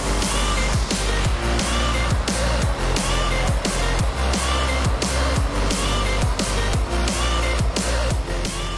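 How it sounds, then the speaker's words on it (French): PistenBully 600 Polar snow groomers work a ski slope at high altitude in Austria, giving a loud, steady engine roar with regular rhythmic clanking pulses throughout. "Nous avons de la chance car les piston bullies sont déjà au travail."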